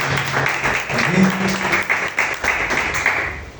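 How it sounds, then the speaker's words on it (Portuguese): Church congregation clapping for the name of Jesus during an evening service, steady applause from the hall with voices and a sung or spoken tone running beneath. "você aplauda o nome do Senhor Jesus nessa noite"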